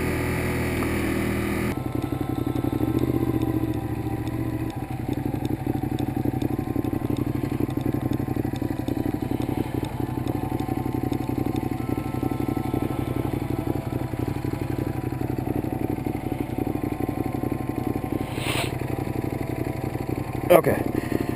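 A Ducati Monster 821 Stripe motorcycle hums along steadily at cruising speed under wind rush, its engine drone constant and close, with a brief clatter near the end.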